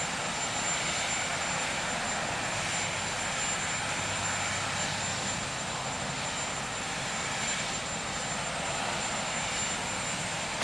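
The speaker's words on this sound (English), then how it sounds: "Everyone in the White House stood outside and waited until the helicopter lifted." Marine One, the presidential helicopter, lifts off at the White House with a steady, loud, broadband rotor and engine roar that holds unbroken throughout.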